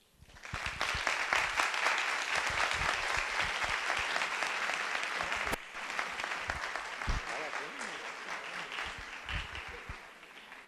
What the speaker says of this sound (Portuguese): acho que podia bater mais palmas, né?